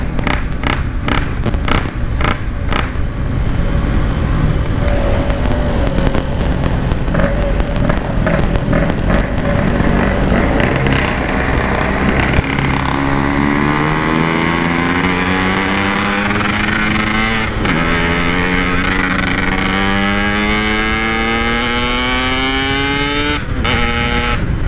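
A Yamaha RX King two-stroke motorcycle on the road, its loud raspy engine revving continuously close by, with rising and falling pitch as it accelerates through the gears.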